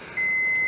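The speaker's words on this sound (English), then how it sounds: "All right, hiking along, the Geiger counter" Geiger counter beeping during a hike to an abandoned mine while prospecting for fluorescent minerals in Boulder County, Colorado: one steady, close, high electronic tone sounding continuously for most of the moment.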